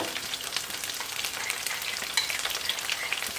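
Haitian-style food cooking in a pot, a steady close crackling sizzle with a bright hissing texture and faint scattered pops, continuous and alone.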